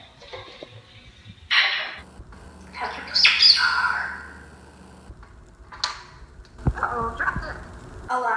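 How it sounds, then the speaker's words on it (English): A talking parrot vocalizes in several bursts of squawks and chirpy calls, close and fairly loud, separated by short quiet gaps with faint background hum. "Some bird folk speak quite well using the human language."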